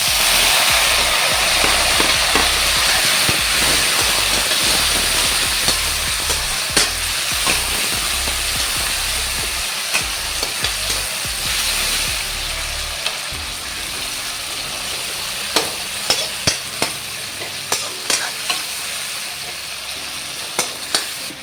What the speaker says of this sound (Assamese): এয়া মোৰ পিঁয়াজখিনি ৰঙা হৈছে। এতিয়া বিলাহীখিনি দি দিছোঁ।